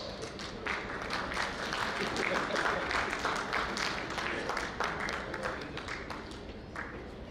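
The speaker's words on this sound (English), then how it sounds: "A big round of applause." Audience applause at an architects' chapter ceremony, steady dense clapping throughout at moderate level, slightly distant in a hall, with some voices mixed in.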